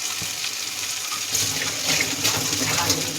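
Water poured into a mixer grinder jar while cooking a Bengali catla fish curry, a steady rushing splash that swells louder halfway through, close and continuous.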